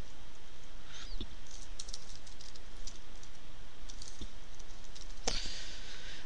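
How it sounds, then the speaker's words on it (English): Typing on a computer keyboard, a quiet run of soft key clicks with a few sharper taps, close by over a faint background hiss. "I'll type that in"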